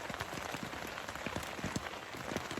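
Heavy rain drums steadily on a tarp stretched over a tent while camping, a dense continuous patter with scattered sharper drop hits and no voices.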